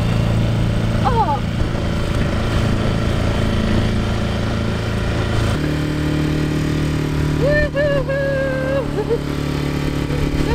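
A 6 horsepower four-stroke outboard engine on a boat tender runs loud and close with a steady buzzing drone that shifts pitch midway, while excited voices shout over it.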